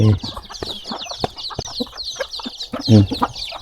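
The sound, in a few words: chickens clucking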